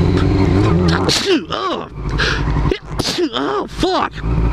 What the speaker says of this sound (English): that is my first time sneezing into a helmet